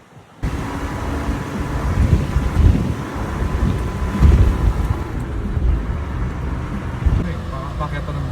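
A small 660cc car engine hums and strains on a mountain road in Nasu, Japan, a steady, fairly loud low drone with broadband road and wind rumble that runs for the whole stretch.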